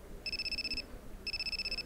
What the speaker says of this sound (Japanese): なんか懐かしい携帯電話だね